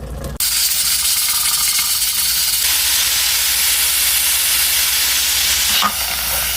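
A pressure cooker holding potatoes and spinach lets out steam in a loud, continuous, hard hiss that starts abruptly and holds steady for several seconds, with a brief click near the end.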